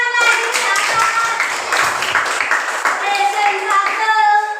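Classroom clapping as students applaud a group presentation, brisk close hand claps from a small crowd with voices and tonal sounds mixed in throughout.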